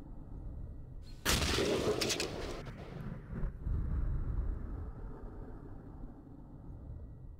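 A wire-guided medium-range anti-tank missile launches with a sudden loud blast and rushing roar, then a second burst as the noise trails off into the distance.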